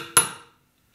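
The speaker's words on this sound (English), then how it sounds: "you get a much cleaner strike with your hammer" A single sharp metallic strike of a hammer on a tool pressing a silver ball into a shot plate, a bright ringing crack that decays within half a second.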